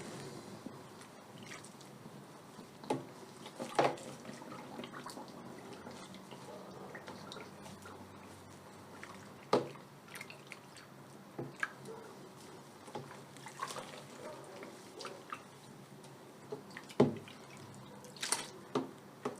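Knitted wool and acrylic yarn soaking in water being stirred by hand, soft irregular squelches and drips, quiet and close, with occasional sharper splashes spread across the stretch.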